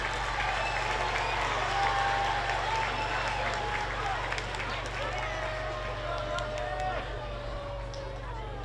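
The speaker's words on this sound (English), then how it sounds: "Let's give our silver winners a round of applause." Crowd at a school math olympics awards ceremony claps steadily for silver medal winners, a continuous applause wash lasting several seconds with children's voices and hall chatter beneath and a low hum throughout.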